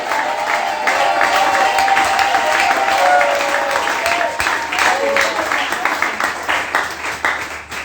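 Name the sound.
congregation applauding and acclaiming the king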